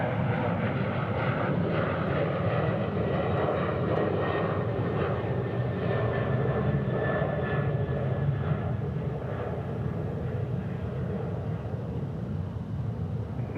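Jet airliner engines roar steadily at DFW International Airport, a loud, continuous broadband rumble that holds throughout with no pauses.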